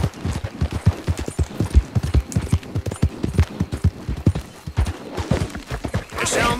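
Horse hooves clip-clop steadily on a trail in Red Dead Redemption 2, a brisk rhythmic series of close hoofbeats with a brief whinny-like sound near the end.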